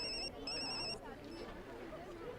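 A telephone rings in two short electronic bursts at close range, followed by people talking with background chatter.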